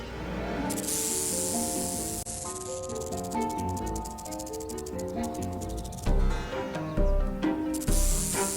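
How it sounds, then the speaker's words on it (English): A loud, sustained dry buzzing hiss of a rattlesnake's rattle, steady and close, with tonal music playing over it. "rattlesnakes really don't want to bite you, which is where the rattle comes in"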